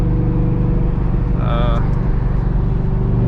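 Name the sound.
2001 Ford SVT Cobra engine accelerating in fourth gear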